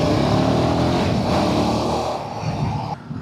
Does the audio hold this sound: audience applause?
no